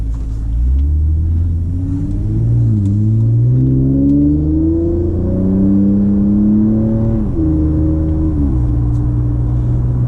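A Toyota Camry XSE V6 fitted with a MagnaFlow exhaust accelerates hard from inside the cabin, a loud deep rumble rising in pitch through several gear shifts, continuous and with no talk.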